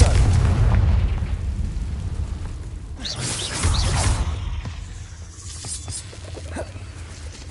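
A Bombarda spell explosion in Hogwarts Legacy, a heavy booming blast with a whooshing burst, loud at first and then rumbling and fading amid smaller crackles.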